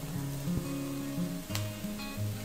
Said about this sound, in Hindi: अब मैं इसमें शिमला मिर्च डाल दूंगी